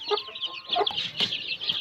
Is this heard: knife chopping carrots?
no